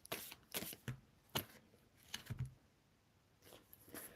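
Tarot cards being shuffled by hand in a quiet room, giving several short riffling and slapping bursts separated by pauses, faint and close.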